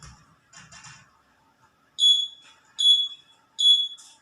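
A smart wristband buzzer alarm sounds three sharp, shrill beeps at regular intervals, each close and fairly loud, following a few faint, soft murmurs.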